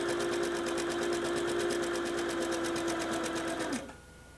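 A sewing machine zigzag-stitching fabric for a circus tent runs at a steady, rapid rhythmic clatter for nearly four seconds, then winds down and stops, leaving a faint hum.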